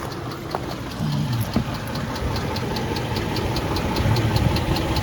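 A car engine idling nearby with a regular, rapid ticking that repeats evenly throughout, no talking.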